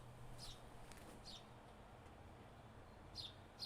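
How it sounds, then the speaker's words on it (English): A bird calling outdoors, three or four short, high chirps spaced a second or two apart, faint and distant over a low steady background hum, no talking. "The bird is yelling at me right now."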